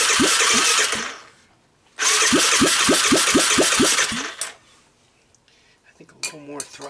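A trash-picked Honda ATC 250ES engine cranks on starting fluid in two loud bursts of rhythmic chugging separated by a short pause, followed by quieter mechanical clatter.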